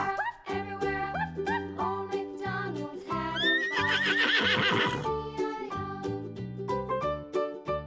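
Horses neighing and whinnying repeatedly, with hooves clip-clopping in between; the sounds are loud, close and continuous over a farm setting with no talking.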